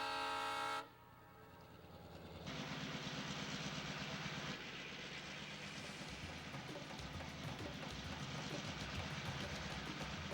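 A train climbing switchback loops on the Wyoming Colorado Railroad sounds a brief horn blast, then rolls on in a loud, steady, broad rumble and rattle that fills the rest.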